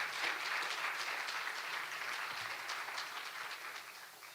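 Audience at a Latina leadership event giving a round of applause for vendors and sponsors, a steady wash of many hands clapping at moderate volume that slowly fades.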